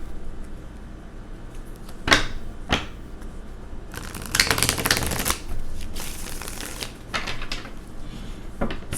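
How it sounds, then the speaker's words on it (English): Tarot cards shuffled by hand: scattered soft riffles and snaps, a couple of sharp flicks early, then a longer dense burst of rapid card shuffling, recorded close up and quiet. "I'm going to shuffle one more time."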